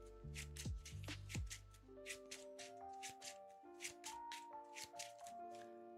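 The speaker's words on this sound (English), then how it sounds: "And Karen will shuffle a card back in." Cards shuffling in a roguelike deck-building video game, a run of quick riffled flicks and soft slides repeating over a steady backdrop of layered game music and synth tones, with no talking.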